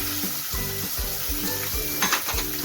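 Chopped onion hits hot oil already seasoned with asafoetida and curry leaves, a loud close crackling sizzle with a steady bubbling hiss for a traditional Konkan bean dish, no talking.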